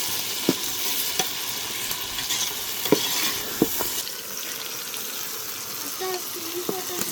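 Biryani masala being stirred in a pan, a continuous sizzling hiss with a few scattered scrapes and clinks of the spoon, close and moderately loud with no talk.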